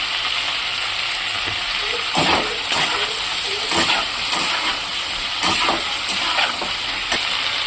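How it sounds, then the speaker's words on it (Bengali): Washed potatoes fry in a pan with a continuous loud sizzle, broken by repeated scraping bursts as they are stirred at a fairly regular pace. "এর মধ্যে এরপরে সুন্দর করে নাড়াচাড়া করে ভাজবো"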